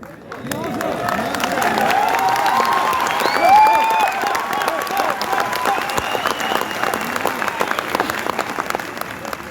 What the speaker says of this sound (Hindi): ये तालियां है ना